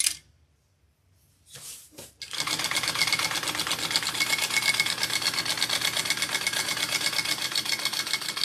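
A sewing machine stitches through old fishing waders to make a tote, starting with a brief tentative burst, then running in a steady, fast, close mechanical whir for several seconds.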